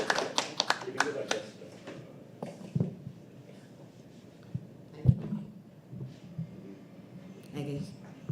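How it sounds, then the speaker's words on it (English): Scattered claps from a small open-mic poetry audience, a few sharp distinct hand claps at first that then thin out to sparse taps, close and uneven, with people talking in between. "Come on, keep clapping."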